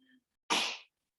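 One sharp, close sneeze bursts out and fades within half a second, preceded by a faint voice in an otherwise quiet room.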